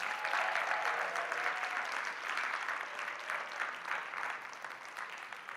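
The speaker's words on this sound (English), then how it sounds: "you can applaud them once again" An audience claps steadily, a dense patter of many hands that fades slightly toward the end.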